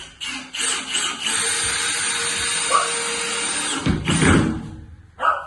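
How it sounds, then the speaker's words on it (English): Electric screwdriver driving screws into a lorry habitation floor, a steady whirring buzz running for several seconds, then a brief louder burst of motor and thumping near the end, with a short pause before a final spurt. "Electric screwdrivers really are much quicker."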